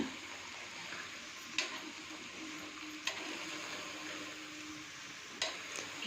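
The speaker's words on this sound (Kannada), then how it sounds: "ಹಾಗಲಕಾಯಿ ಎಣ್ಣೆಯಲ್ಲಿ ಚೆನ್ನಾಗಿ ಫ್ರೈ ಆಗಬೇಕು ಅಲ್ಲಿ ತನಕ ಫ್ರೈ ಮಾಡಬೇಕು" Slices of bitter gourd frying in oil in a pan, a soft steady sizzle with a few sharp clicks of a utensil stirring at intervals, no talking.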